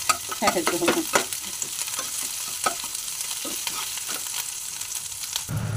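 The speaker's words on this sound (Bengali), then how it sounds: "তো রসুনটা প্রায় ভাজা হয়ে গেছে" Onion, ginger and garlic paste fries in a pan with a close, continuous sizzle, broken by a rapid burst of stirring scrapes early on and occasional utensil knocks afterward.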